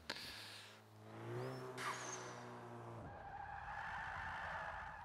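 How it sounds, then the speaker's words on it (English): A rally car in the racing game Forza 5 skids through a handbrake turn, tires squealing loudly as the engine note winds down, then hissing gravel-like noise takes over as the car powers away. "That's a better handbrake turn."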